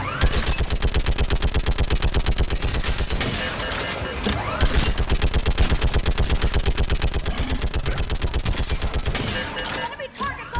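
Sustained rapid automatic gunfire in a Mass Effect 3 Legendary Edition battle on Thessia, a relentless machine-gun-like stream of loud shots lasting about ten seconds with brief shifts in intensity and faint shouting voices underneath.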